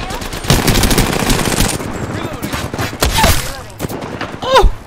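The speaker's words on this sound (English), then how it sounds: "I'm taking shots. Firing." Rapid bursts of automatic gunfire in the Apex Legends video game, loud close volleys separated by brief gaps, with higher chirping effects near the end and no talk.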